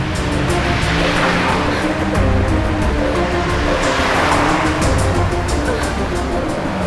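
A car drives along a road, giving a loud, steady rush of engine and tyre noise that stays unbroken for several seconds.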